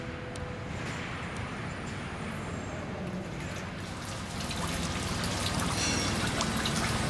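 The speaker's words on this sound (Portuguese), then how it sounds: "Eles decidiram usar argamassa, uma mistura de cimento, areia e água." Wet mortar of cement, sand and water pours steadily at a Swiss Alps tunnel construction site, a dense continuous gushing rush that swells louder toward the end, with no talk.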